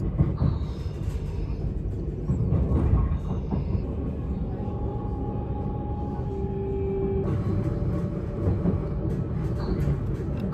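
Steady low rumble of a train rolling along the tracks through dunes in the Netherlands after leaving Haarlem, continuous and fairly loud throughout, with faint higher tones drifting in and out.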